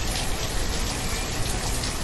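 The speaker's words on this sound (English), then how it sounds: "Why is it raining all the time?" Steady, dense rain falling in a village-building video game, a continuous close hiss with no pauses, heard alone.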